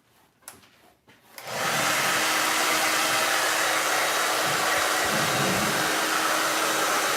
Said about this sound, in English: the blow dry is definitely a lot louder than the heat gun